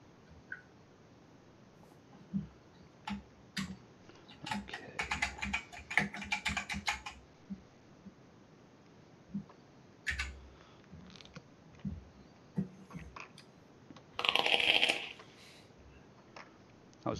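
Typing on a new office computer keyboard right beside the microphone comes in scattered bursts of sharp, close clicks with pauses between them, plus a single louder rattle near the end.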